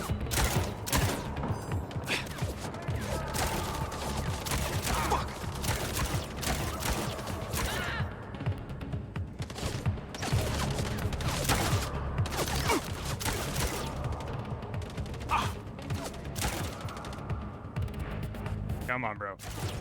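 Rapid pistol gunfire in the action video game Mindseye, dense repeated shots and impacts layered with loud game effects and a player talking over the continuous combat.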